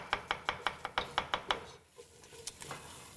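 A kitchen knife chops food on a board while making stew, about nine sharp, evenly spaced close strokes, then stopping, followed by a few quieter clinks.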